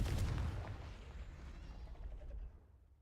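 A Confringo blasting spell detonates in the Hogwarts Legacy video game, a heavy low boom up front that rumbles and decays over a few seconds into quiet.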